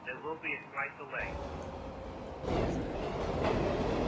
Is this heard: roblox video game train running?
yes